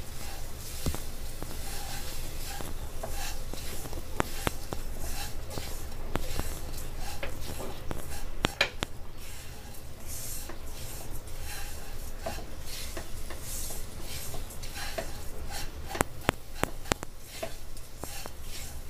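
Condensed milk being mixed into fried lachha semai, a long stretch of continuous rubbing and scraping against a pan with scattered sharper clicks of the utensil, close but fairly soft, with no talking.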